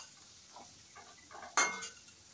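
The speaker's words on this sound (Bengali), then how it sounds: "আলুগুলো লাল করে ভাজা হয়ে গেছে," Fried potato pieces are stirred and lifted from a wok, giving soft scraping and a sharp metallic clink of a utensil against the pan, faint and brief.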